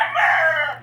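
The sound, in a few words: chicken clucking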